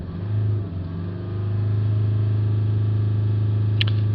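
The 2.0 engine of a Range Rover Evoque rises from idle and holds at raised revs, producing a loud, steady drone with a strong low hum that climbs slightly before settling into a constant tone. The sound is close and no one speaks over it.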